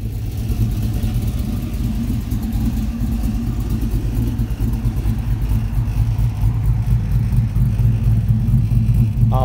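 A 1967 Chevy II Nova restomod rumbles at a steady, loud idle close by, its deep, lumpy exhaust note continuous throughout.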